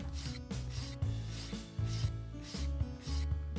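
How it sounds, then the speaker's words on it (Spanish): A nail file rasps back and forth across a poly gel fingernail during a refill, a steady close rubbing with repeated strokes, while music plays underneath. "Vamos a agarrar de este lado también así, a limar hacia abajo, dándole la formita"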